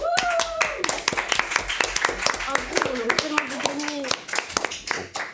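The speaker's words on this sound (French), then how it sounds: "On l'applaudit très fort." Audience claps for a guest on a French show, sharp individual claps scattered over lively talk and a tonal voice.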